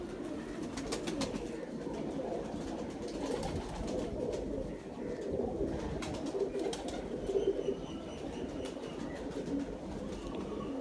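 Large Indian pigeons cooing softly in a loft, a steady low murmur of calls running throughout with faint rustling and distant background noise.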